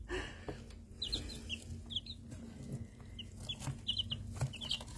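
Domestic chickens clucking and chirping in short, scattered high-pitched bursts over a steady low background hum, fairly close, with no talking.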